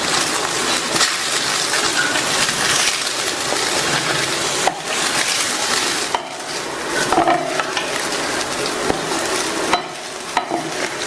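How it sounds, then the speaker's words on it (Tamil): Brinjal rice is stirred and mixed in a hot pan, with continuous scraping and shuffling under a faint sizzle and several sharper knocks of the spoon. "நல்லா சாதம் சூடு ஏறுற வரைக்கும் நல்லா கலந்து விடணும்."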